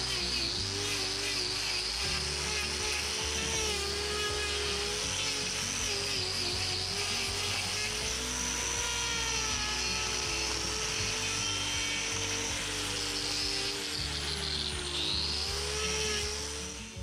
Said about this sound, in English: you can see me using the grinder up in between the claws there